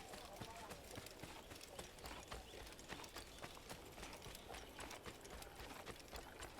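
Horse hooves gallop in the Assassin's Creed video game, a steady rapid clip-clop running throughout amid game ambience while a person talks over it.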